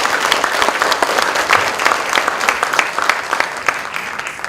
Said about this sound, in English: Please give the applause to our honorable guest.